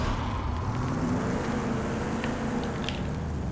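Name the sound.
vehicle engine driving in the video game Rage 2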